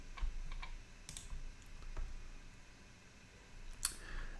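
Clicking on a computer while building a website: a series of faint, sparse clicks, with a few sharper taps, sounding close against a quiet room and no talking.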